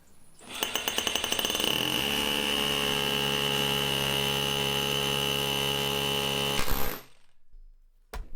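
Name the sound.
hammer drill drilling into brick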